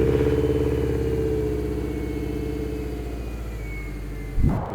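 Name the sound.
JDM Subaru EJ205 car engine starting and running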